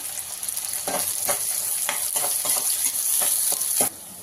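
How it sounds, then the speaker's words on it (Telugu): Onions frying in hot oil until golden for a Telugu chicken fry vepudu, a steady bright sizzle with repeated stirring scrapes at a close, even level and no talk. "ఇప్పుడు ఆయిల్లోకి వేసేసుకున్నాము. ఇది మంచి గోల్డెన్ కలర్ వచ్చేదంతా వేయించుకున్నాము"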